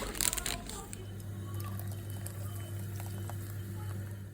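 Lentil soup bubbles in a pot on a home stove, a soft continuous simmer with a low steady hum beneath it, after a brief clatter at the start.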